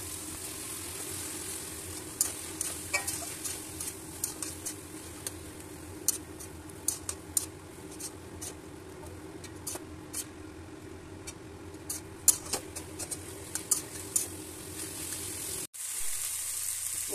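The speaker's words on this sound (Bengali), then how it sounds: "মোচাটা দিয়ে তারপর আরেকটু ভালোভাবে নাড়াচাড়া করে নেব" Boiled banana flower stirred with spices in a pan, giving a steady soft sizzle with frequent sharp ticks and scrapes of stirring, cutting off abruptly near the end.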